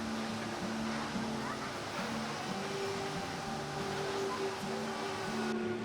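Waterfalls pour into the Milford Sound fjord on New Zealand's South Island, a steady, dense rush of falling and churning water that continues without a break, with faint tonal hums layered over it.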